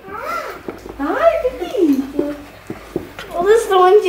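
A puppy whimpers and squeaks in short high-pitched bursts, heard close up under lively adult speech throughout.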